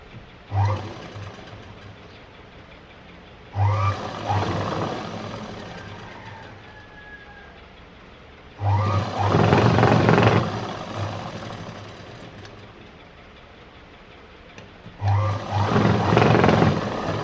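A sewing machine stitching the sleeve joint of a kurti runs in several loud bursts of rapid whirring, separated by quieter stretches of low hum, with no talking.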